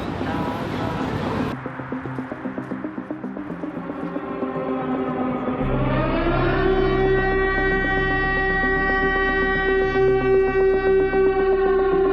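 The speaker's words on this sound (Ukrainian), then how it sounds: "Оголошують повітряну тривогу." A civil defense air raid siren wails across Ukraine, its long rising and sustained tones holding steady and loud, with other sirens overlapping in the distance.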